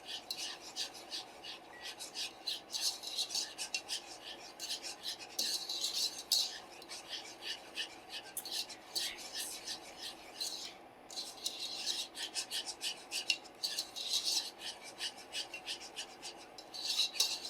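Spoon scraping and rubbing steadily around a pot of thickening, cooking sauce, a continuous close rasping stir with soft clinks, no talking.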